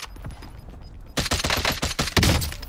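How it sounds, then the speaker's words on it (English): Rapid gunfire in a battle royale shooter game, a quiet stretch of scattered shots giving way to a loud dense burst of automatic fire that carries on to the end. "I'm shooting!"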